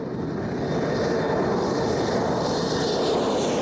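An aircraft descending toward the runway to land, a steady broadband engine roar held at an even level, close and continuous.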